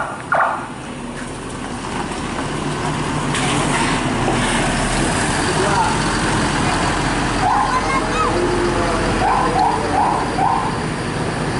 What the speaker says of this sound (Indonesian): Ada 4 buah bus yang berangkat pada hari ini menuju ke asrama haji